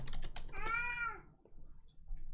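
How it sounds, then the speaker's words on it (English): A cat meows for attention with one clear, drawn-out meow, close but quiet, amid soft keyboard typing and clicks in a room during a tabletop game session. "This cat really wants attention."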